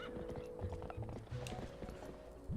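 Horse hooves clip-clopping in The Legend of Zelda: Twilight Princess HD video game, a quick run of soft hoofbeats under busy game sound and faint background noise.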